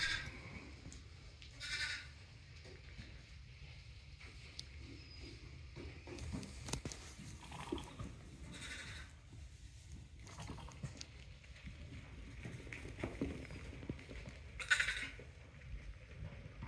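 Sheep and young lambs bleat in a large flock during lambing season, with scattered bleats, some nearer and some farther off, over a quiet farm background with no talking.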